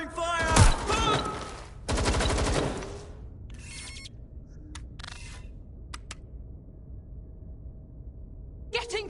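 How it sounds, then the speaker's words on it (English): Gunfire in the video game Watch Dogs Legion comes as two loud automatic bursts early on, then a few sharper, shorter shots and clicks scattered over a quieter stretch. "Incoming fire!"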